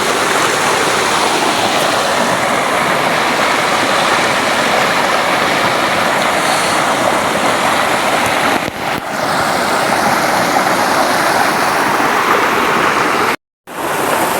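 A river swollen after Typhoon Tino rushes past in a loud, unbroken roar close to the microphone. There is a brief dropout near the end, and nobody speaks.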